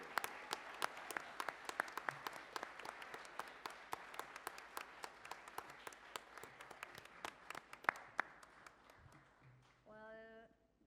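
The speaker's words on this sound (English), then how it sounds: "A round of applause for Clara Montini-Briggs." Audience at a labor and health activism panel clapping for a speaker, many sharp distinct claps that thin out gradually over ten seconds, fairly quiet, ending in a brief voice at the close.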